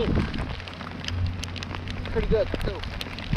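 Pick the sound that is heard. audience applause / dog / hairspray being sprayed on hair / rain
rain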